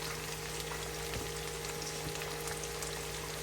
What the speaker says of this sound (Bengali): পেঁয়াজ কুচিটা হালকা করে একটু ভেজে নিব